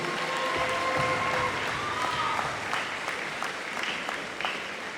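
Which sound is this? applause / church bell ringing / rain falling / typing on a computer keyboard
applause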